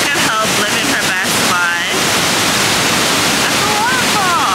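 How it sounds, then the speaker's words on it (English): A waterfall in Bali, a steady broadband roar of falling water close by, with people talking over it. "We made it to the waterfall."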